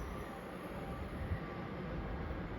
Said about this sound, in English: Passing through now is 350 239 on a ECS movement from London Euston to Northampton